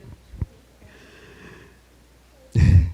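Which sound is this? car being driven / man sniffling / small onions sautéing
man sniffling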